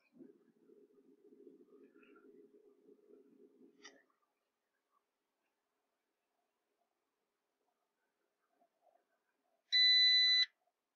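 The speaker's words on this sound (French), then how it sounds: "on a fait biper l'ABS, ce qui est normal" A single loud, steady electronic beep from a Fiat 500 ABS module during a diagnostic test lasts under a second after a stretch of quiet, with faint low talk earlier on.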